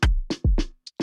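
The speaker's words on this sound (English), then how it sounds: "we used a MIDI groove that we have here in the MIDI player that sounds like this" A MIDI drum groove loop played on Sound Off the Block drums: punchy kick and snare hits alternate in a short rhythmic pattern with a light hi-hat tick, clear and close with no voices.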